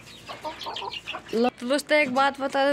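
Desi hen clucking in a backyard flock at feeding time on a spinach scrap, with nearby repeated throaty calls that rise into louder drawn-out squawks, while someone speaks in Hindi over the first half.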